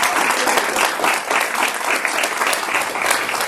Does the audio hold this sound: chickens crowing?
no